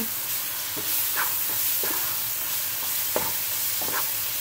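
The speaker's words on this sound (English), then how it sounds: "So you just want to blend it in till your flour is completely blended in" Flour being stirred into steak stroganoff in a sizzling pan: a constant frying hiss broken by irregular scraping strokes of a utensil, close by, with no talk.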